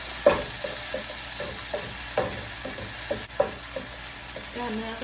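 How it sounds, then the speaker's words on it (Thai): Beef and red bell peppers stir-fry in a pan with a steady close sizzle, broken by occasional clinks and scrapes from the spatula. "เนื้อมันรวนแล้วก็ใส่อันนี้ไปก่อนเลยค่ะอันนี้พริก พริกหวาน พริกแดงใส่ไปก่อนเลยทุกคน"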